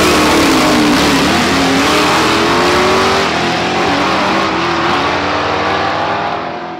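A Ford Mach 1 Mustang with the 428 Cobra Jet V8 revs hard and accelerates, its loud, steady engine roar held close before easing slightly toward the end, with no talking.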